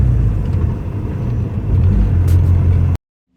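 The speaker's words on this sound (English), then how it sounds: "the car started right up" A Honda Civic EG engine idles steadily after starting, a loud low rumble that holds for about three seconds before cutting off abruptly into silence.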